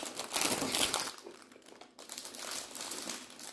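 A Ringo Stranger Things snack packet is crinkled and pulled open up close, bursts of plastic rustling and crackling with a short pause midway, no speech.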